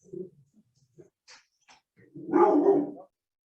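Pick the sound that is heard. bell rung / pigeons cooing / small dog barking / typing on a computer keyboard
small dog barking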